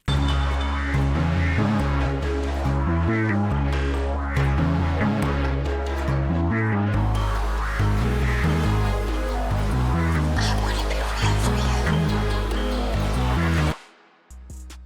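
Second part of a beat intro built in FL Studio: dense layered synths over deep pulsing bass, loud and continuous, cutting out abruptly just before the end.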